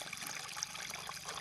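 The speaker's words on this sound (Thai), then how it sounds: "น้ำไหลแบบธรรมชาติเลยนะทุกคน" Water flowing naturally from a pipe led up from a stream, a steady faint trickling and splashing stream with no pauses.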